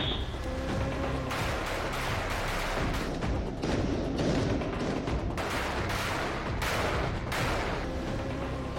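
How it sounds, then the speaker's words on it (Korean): Rifle gunfire rings out at a Capital Defense Command counter-terror shooting drill in Seoul, a steady series of loud, sharp shots fired at irregular intervals. Some reports overlap, others stand apart, over a constant outdoor background. "오늘은 대테러 훈련의 가장 기본이라 할 수 있는 사격 훈련이 있는 날."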